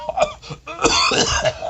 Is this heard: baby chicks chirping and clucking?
no